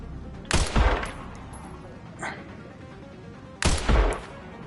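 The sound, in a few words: gunshot headshot on a zombie in the video game Resident Evil 9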